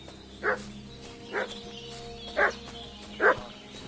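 Dog barking in the medieval role-playing video game Kingdom Come: Deliverance II, four separate barks spaced about a second apart over a low steady background hum, moderately near and alone without talk.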